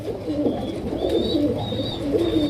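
Pigeons coo steadily at a Bangladeshi pigeon farm selling fancy breeds, a dense overlapping chorus of low throaty calls with faint higher chirps throughout, close and fairly loud.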